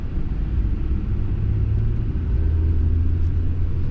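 A 1995 Nissan Pathfinder 4x4 SE crawls slowly in low gear on tarmac, its engine giving a steady, close, low rumble throughout with no speech.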